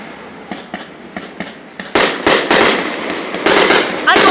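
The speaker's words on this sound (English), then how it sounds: "I know these are both fireworks." Independence Day fireworks burst over a lake, first a series of lighter pops and crackles, then several louder sharp booms in quick succession, fairly close and without talk.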